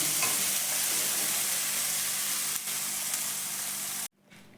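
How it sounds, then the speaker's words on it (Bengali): Tomato and egg fry in a hot pan, giving a steady, loud sizzle that runs close and continuous for about four seconds before cutting off abruptly. "দিয়ে এটাকেও এর সাথে ভালো করে ভাজবো দেখুন আমার টমেটোটাও ভাজা হয়ে গেছে"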